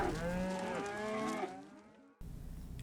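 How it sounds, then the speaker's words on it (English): A cow gives one long, low, loud moo that slowly fades, heard close and on its own, followed by a moment of quiet outdoor background. "cow."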